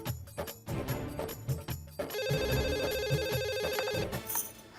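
Telephone ringing on an outgoing call, a repeated electronic ring tone that starts about halfway through and holds steady, heard after a stretch of mixed background sound with no talk.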